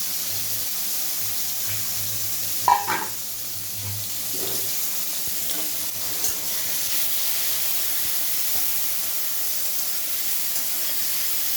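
Prawns sizzle in hot mustard oil in a pan, a steady soft hiss of frying that runs throughout, with a brief clatter early on as the prawns go in.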